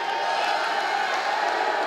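Wrestling arena crowd roaring and cheering for Tommy Dreamer in his match against Darin Corbin, a steady broad wash of massed voices with no clear breaks, fairly loud and sustained.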